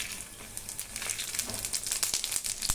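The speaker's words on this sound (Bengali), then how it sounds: "এবার ফোড়নগুলো দেব। লাবড়া করার জন্য আমি দিচ্ছি একটু তেজপাতা, শুকনো লঙ্কা, পাঁচফোড়ন আর অল্প জিরে।" Bay leaf, dried red chilli, panch phoron and cumin fry in oil mixed with ghee in a wok for labra, giving a close, continuous crackling sizzle with scattered sharp pops.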